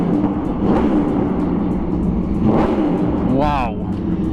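An Aprilia RSV4 V4 sport motorcycle fitted with a Leo Vince exhaust revs in a couple of broad swells over a steady engine drone, with a person speaking over it.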